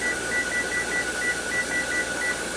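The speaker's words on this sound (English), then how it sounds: "I've set my timer for 10 minutes." A kitchen timer sounds a run of short, high electronic beeps as it is set, evenly spaced over a loud background hiss.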